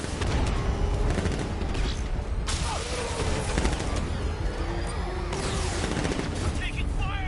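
Dense, loud gunfire and booming impacts in a Batman Arkham Knight road chase, rapid overlapping shots and crashes filling the whole stretch, with shouted voices mixed in.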